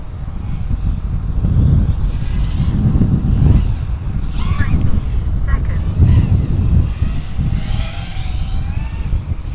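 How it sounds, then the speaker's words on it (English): Breezy outdoor wind buffets a microphone with a loud, continuous low rumble and gusty swells. Faint higher tones come and go above it, and voices may be present under the noise. "Man, it is breezy out here."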